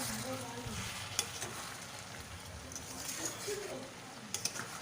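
Bottle gourd and shrimp cook down in a pan for lau chingri ghonto, a soft, low crackling sizzle with light stirring scrapes and a few small clinks, a faint voice murmuring underneath.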